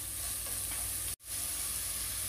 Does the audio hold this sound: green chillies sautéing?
yes